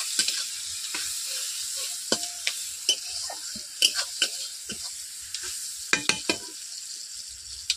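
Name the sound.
onions frying and being stirred in a pan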